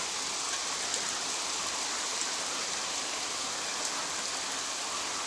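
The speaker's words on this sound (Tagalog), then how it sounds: "Hindi ko mabidyo nung umuulan." Rain falls steadily on a farm and hisses as a dense, continuous patter. The sound is even and fairly loud throughout, with no voices.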